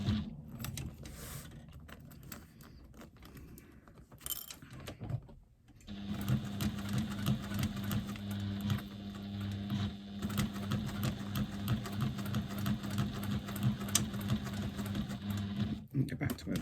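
Sewing machine running steadily after a brief pause, a close mechanical whir with rapid rhythmic needle stitching that continues for several seconds, with light talk early on.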